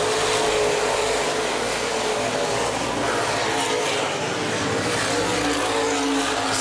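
Open wheel modified race cars racing at Baer Field Speedway, a dense, loud, continuous roar of many engines passing together at close range.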